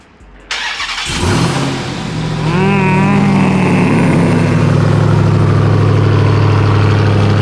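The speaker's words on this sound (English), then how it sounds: "Hellcat engine in the TRX" A supercharged Hellcat V8 in a Ram TRX pickup truck cranks and fires up with a loud burst, then settles into a deep, steady, rumbling idle close by.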